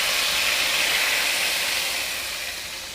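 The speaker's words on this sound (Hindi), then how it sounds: "उसके अंदर तड़का शामिल कर देते हैं।" Hot tempered spices in oil hit cooked daal with a loud, broad sizzling hiss that starts strong and gradually fades, close and alone.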